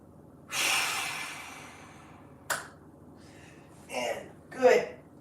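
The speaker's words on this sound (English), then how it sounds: "One more big breath" A deep breath taken during a mobility exercise, with a long audible inhale followed by a sharp click and a couple of breathy exhales, close and fairly clear.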